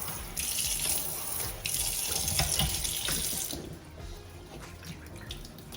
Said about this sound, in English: Now what I like to do is just add some cold water onto here